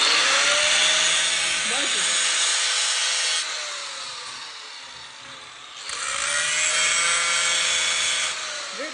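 An angle grinder is spark-testing permalloy (79NM) metal, giving a loud, close, continuous high grinding whine that eases off briefly midway and then returns at full strength.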